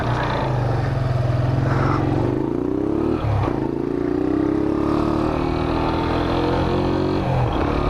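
A Benelli TNT 15 motorcycle with an aftermarket chain and rear sprocket pulls away, its engine note rising and falling through gear changes, loud and close with steady road and wind noise.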